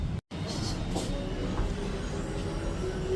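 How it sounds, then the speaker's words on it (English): A train rumbles continuously near a metro station while someone walks toward it, a broad steady roar of rail noise with faint squeals and no clear talk. "now I'm walking towards my metro station"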